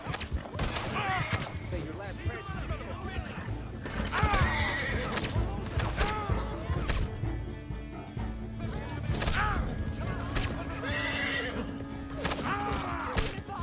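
A horse in Red Dead Redemption 2, a dapple dark gray Hungarian Halfbred, whinnies several times over a steady clip-clop of hooves while riding, with someone talking intermittently over it.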